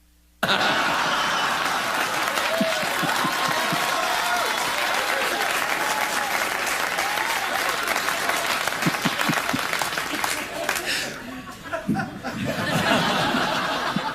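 A studio audience at a late-night comedy sketch show bursts into loud, sustained applause mixed with chuckles and laughter. The clapping holds steady for about ten seconds, then thins and swells again near the end.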